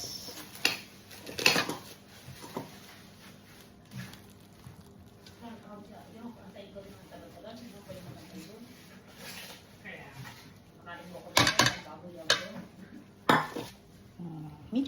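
Utensils stir a salad of onion and carrots in a bowl: sparse clinks and scrapes that build into a few sharp clattering bursts near the end, with speech in between.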